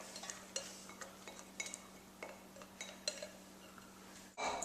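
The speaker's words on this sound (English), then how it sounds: "Put that in the pan, the pot that you're going to make the soup in, with the onions" Cooked salt pork, onions and celery go into a clam chowder soup pot with a series of soft clinks and scrapes of utensils against the pot, a low hum underneath, ending in a louder thump.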